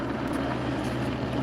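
A police helicopter hangs over downtown Los Angeles at night, a constant rotor thrum and engine roar droning evenly throughout, no voices over it.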